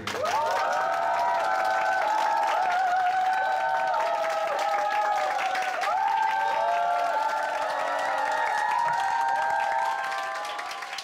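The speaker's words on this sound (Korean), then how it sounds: "박수 부탁드릴게요." Steady applause from an audience at a band's final concert, with cheering voices rising over it, continuous and fairly loud for the whole stretch.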